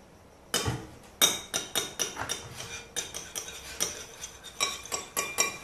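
Shortbread dough being mixed by hand in a bowl after two egg yolks and a few tablespoons of milk go in: a steady run of close, sharp clinks and taps of a utensil against the bowl, loud and alone.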